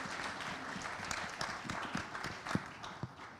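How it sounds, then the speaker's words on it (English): Faint, distant audience applause for a speaker at a medtech conference, scattered claps over steady room noise, fairly quiet throughout. "Round of applause for Cedric,"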